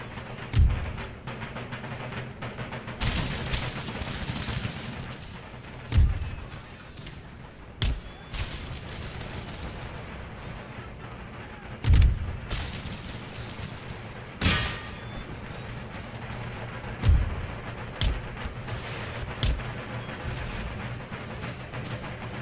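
Artillery and rifle fire in Empire Total War: booming cannon shots land at irregular intervals over a steady battlefield din, several heavy thuds standing out loud and close among scattered crackling musketry.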